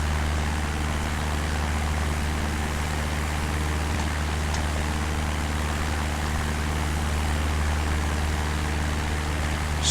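Steady, loud drone of an aircraft engine in flight over South Wales near Penarth and Cardiff Bay, a constant low hum with no breaks and no voices.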